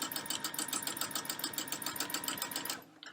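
Sewing machine running fast during free motion quilting, a steady rapid needle chatter that stops abruptly near the end, close and alone.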